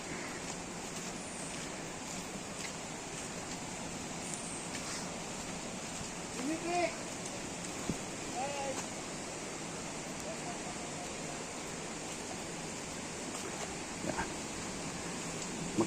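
Taytay waterfall in Majayjay, Laguna, heard as a steady broadband rush of falling water that fills the whole clip, with faint distant voices and a few small splashes above it.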